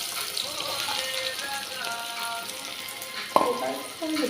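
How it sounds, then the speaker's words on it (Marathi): Onions sizzle in hot oil for egg bhurji, a steady crackling fry with brief scraping of a utensil and a sharp clatter near the end. "आपण याच्यात कांदा टाकणार आहोत तेलामध्ये."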